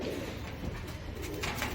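A Royal Teddy pigeon coos quietly against a faint background, with soft low murmuring calls and a few brief sharper sounds near the end.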